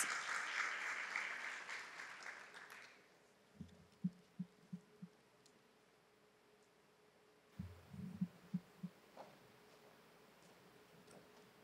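An audience at a nursing academic conference applauds the arrival of a welcoming speaker, a fairly loud burst of clapping that fades after a few seconds, followed by quiet hum and a few scattered soft thumps.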